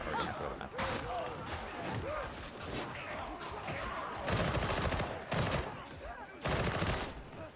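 Bursts of rapid gunfire from a weapon in Warhammer 40k Darktide ring out in heavy clusters amid a dense, noisy battle mix, with several louder volleys toward the end.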